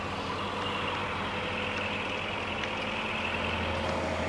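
Tractor engine in a multiplayer farming video game runs at a steady drone, a constant low hum with a faint repeating beep above it and no talking.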